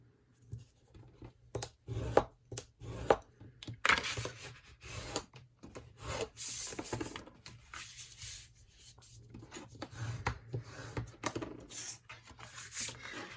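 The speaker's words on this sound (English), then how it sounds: "I'm going to again score and fold." Paper for a flag book being scored and folded: irregular scratchy strokes, creases and rubbing taps in short bursts with pauses between, close by and with no talking.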